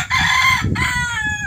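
A fighting rooster crows loudly and close by in a backyard, one long harmonic call that breaks briefly and resumes, with farmyard noise underneath.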